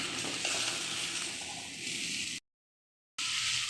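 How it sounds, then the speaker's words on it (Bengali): Okra fries in hot oil with a steady, bright sizzle, quiet and close, cut by a brief gap of silence before the hiss resumes. "আমি এখন ঢেঁড়স তেলে বেজে দিচ্ছি"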